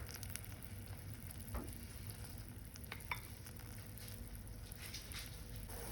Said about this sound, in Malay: Dan tunggu air tu mendidih.